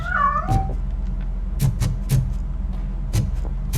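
Short meows from a cat in the video game RoboCop: Rogue City come in several separated bursts over a low background hum, with one drawn-out, wavering cry near the start.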